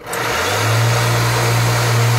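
A 3D printed two-stage regenerative supercharger spins up and runs at 6,000 RPM during a flow test, a loud, steady close-up whine and motor drone with a strong low hum that settles in after a quick rise.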